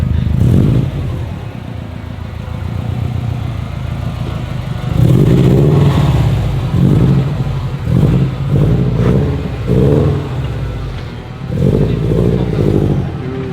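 A 6-speed Subaru Bugeye's engine revs and pulls hard from inside the car, a loud droning growl that swells in several surges as it climbs through the gears.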